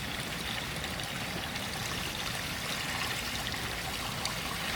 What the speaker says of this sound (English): looking at the water coming out of the spa